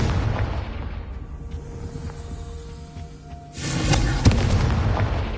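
A fiery blast spell in Hogwarts Legacy, a deep booming explosion with a crackling, hissing burst of flame that erupts suddenly over a rumbling game background.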